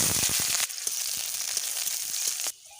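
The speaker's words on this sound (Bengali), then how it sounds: "দিয়ে দেব গোটা জিরে চেরা কাঁচা লঙ্কা আর কুচানো পেঁয়াজ" Whole cumin seeds, slit green chillies and chopped onion frying in hot white oil: a loud, close hiss that is sharpest at first, settles into a steady sizzle with small pops, then cuts off abruptly near the end.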